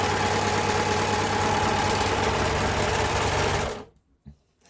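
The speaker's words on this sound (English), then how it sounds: "I'm just going to test it on a scrap to check that the rolled hem function is working correctly." A serger sews a rolled hem on scrap fabric, a loud, close, fast steady whir that stops abruptly near the end, followed by a couple of faint handling sounds.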